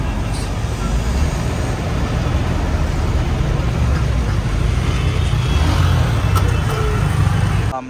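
Steady roar of a moderate traffic jam on a busy Kolkata street near Shyambazar, with engines idling and rolling, continuous and fairly loud throughout.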